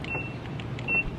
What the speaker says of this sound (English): lock this car up